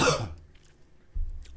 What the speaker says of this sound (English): Oh, I got a cough. Here it comes.